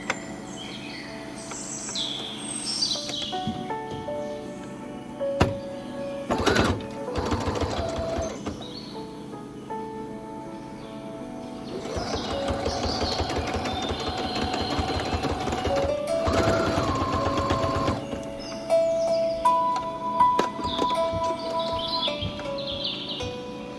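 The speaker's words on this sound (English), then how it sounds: "I'm going to sew the strip to the side that's folded." Domestic sewing machine stitching a folded fabric strip onto a homemade face mask, with bursts of mechanical whirring that start and stop over the clip, alongside faint bird chirps in the background.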